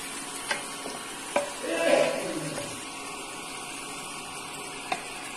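Capsicum sautéing in a pan for kadai paneer gives a soft, close sizzle and a brief stirring swish, with a couple of sharp utensil taps against the pan.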